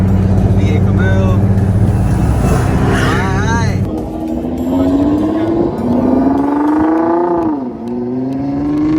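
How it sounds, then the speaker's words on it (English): A V8 Camaro's engine roars nearby during a South Florida street drive, rising and falling in pitch as it revs and passes, heard from inside another car with people talking over it. "V8 Camaro."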